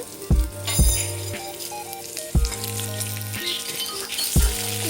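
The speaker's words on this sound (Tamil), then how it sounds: "நல்லா ஃப்ரை ஆகணும்" Chana dal and urad dal fry in oil with a bright, continuous crackling sizzle, punctuated by several low thuds at irregular intervals, close and fairly loud, with no speech.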